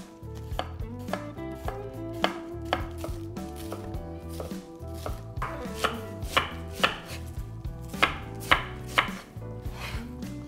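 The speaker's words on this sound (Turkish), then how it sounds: "Mümkün olduğunca ince doğramaya gayret edin." A knife chops cabbage finely on a board in quick, steady strokes, each cut a crisp close thud, repeating rhythmically throughout with no talk.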